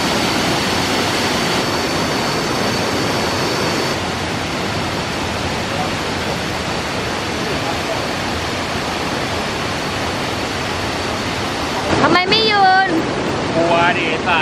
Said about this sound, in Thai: ตอนนี้เรามาอยู่น้ำตกคลองนนทรี